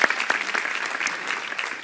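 Applause from a conference audience thanking students and volunteers, a brief steady patter of many hands clapping at moderate volume throughout.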